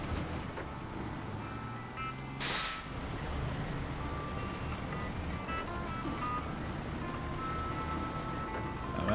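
A big truck rumbles through the woods of Maine in SnowRunner, its engine a steady, fairly quiet low drone with a brief hissing burst early on, and no talk over it.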